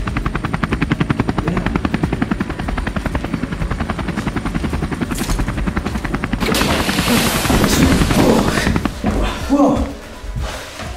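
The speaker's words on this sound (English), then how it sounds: "Helicopter?" A helicopter's rotor chops steadily and loud throughout, growing into a heavier roar partway through, with voices speaking over it.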